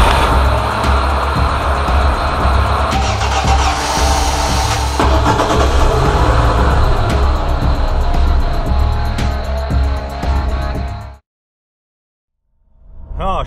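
A Lada Niva drives along with its engine and road noise roaring steadily and loud from inside the cabin, then cutting abruptly to silence before sound returns briefly.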